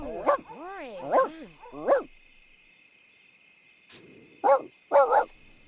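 Dogs in The Sims video game bark and yip in short bursts, a few quick calls, a pause, then more yapping, fairly close, with no talking over them.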